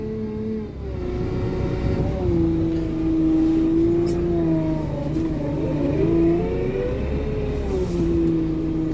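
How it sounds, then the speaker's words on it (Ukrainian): A Lovol P4110 tractor pulling a Lemken Opal 090 plough in autumn ploughing, its diesel engine droning loud and steady with slight pitch shifts while reversing. "Розвертаємося реверс назад, поїхав назад."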